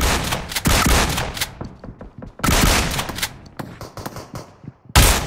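Bursts of rapid gunfire from a favoured high fire-rate gun in PUBG, played on an iPad Mini 6, coming in three loud volleys separated by shorter scattered shots, close and dense with no talk.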